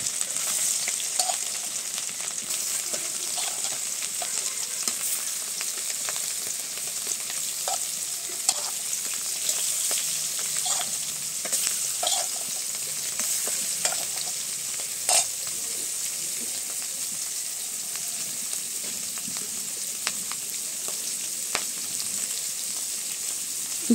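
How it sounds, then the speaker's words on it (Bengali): Fish pieces laid one at a time into hot oil in a wok, giving a steady, close sizzle and crackle with scattered pops and spatters throughout, no talking. "তেলও খুব সুন্দর করে গরম হয়েছে, আর এখন মাছ দিয়ে দিব এক এক করে।"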